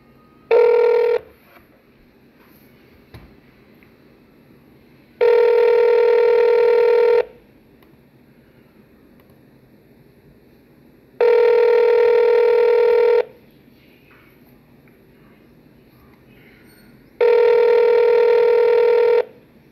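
A telephone rings back repeatedly while calling someone. Four evenly spaced ringback tones of about two seconds each are separated by quiet gaps, and there are no voices.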